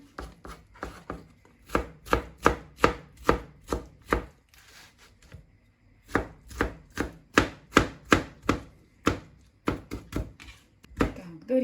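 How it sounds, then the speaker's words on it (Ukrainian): A knife chops a cucumber on a board in two bursts of steady, crisp strokes, close up, with a short pause between. "Нарізаю огірочок і закладаю його до нашого рису"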